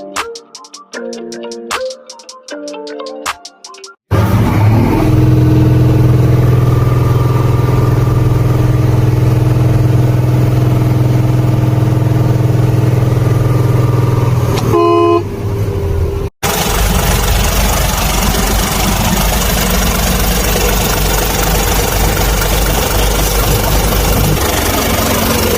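A big Isuzu Gigamax 10-wheeler stainless steel water tanker truck runs with a loud, steady engine drone close by. A brief musical intro comes first, and a short break splits the running engine near the middle.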